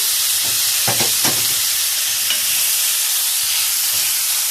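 Onions and meat frying and stirred in a pan so they don't stick, a steady loud sizzle with a few scraping stirs near the start, close and continuous without speech.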